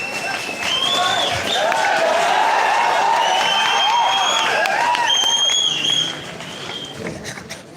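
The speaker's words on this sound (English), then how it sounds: "See, boys are clapping a lot." A crowd of boys at a junior college event claps and cheers loudly, with shrill whistles and shouts riding over dense, continuous clapping that eases off near the end.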